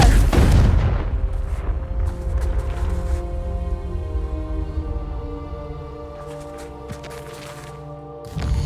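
A Confringo blasting spell detonates in a Harry Potter video game, a heavy booming explosion at the start that rumbles and decays with ringing tonal layers over several seconds, ending with a short fresh burst; no talk.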